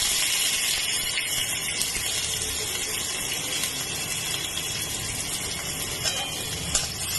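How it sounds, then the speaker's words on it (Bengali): Onion frying in a wok, a dense continuous sizzle and hiss that stays even and close for several seconds, with a faint metallic scrape near the end and no talking. "পেঁয়াজটা হালকা করে ভেজে নেবো"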